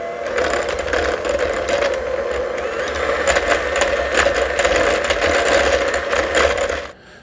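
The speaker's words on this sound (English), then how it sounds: "we're going to start by mixing this up with our hand mixer" Hand mixer beating cream cheese in a bowl, a loud continuous motorized whir with rattling and clattering of beaters against the bowl, running steadily until it cuts off at the end.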